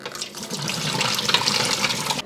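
Hot water from boiled potatoes pours steadily into a kitchen sink as the pot is drained, a continuous splashing rush lasting about two seconds before cutting off.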